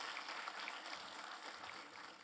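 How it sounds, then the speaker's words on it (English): Applause from a symposium audience for a panel, a dense steady clatter of many hands clapping throughout, fairly distant and even in loudness with no speech over it. "can you give these panel members a warm applause for the all hard work that they did?"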